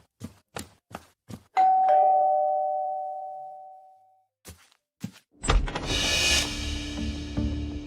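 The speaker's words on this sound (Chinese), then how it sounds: "这门铃声太刺耳了" Several sharp knocks come first, then a single loud electronic doorbell tone rings out and fades slowly, followed by more thuds and a burst of noise.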